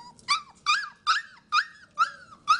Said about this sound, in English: these dogs are also getting prepared for the storm at the Desoto Animal Shelter